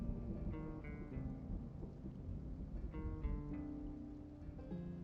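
A thunderstorm rumbles in the video game Project Zomboid, low rolling thunder under steady rain, moderately faint and continuous.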